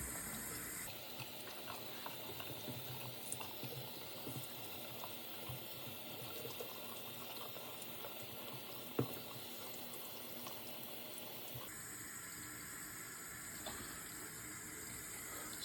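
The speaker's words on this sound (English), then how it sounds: "I'm just going to rinse the top of this off a little." Tap water runs steadily into a sink as a dyed item is rinsed, a faint continuous flow that shifts in tone when the stream changes near the end, with no voices.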